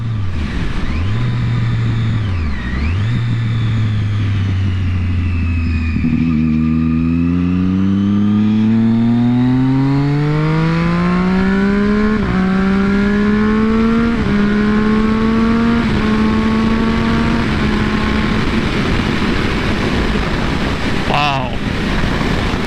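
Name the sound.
Triumph Daytona 675R motorcycle engine accelerating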